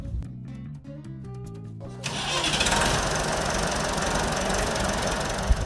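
A Massey Ferguson 165 tractor engine starts up from a rhythmic cranking, knocking chug into a loud, steady diesel running rumble that continues to the end.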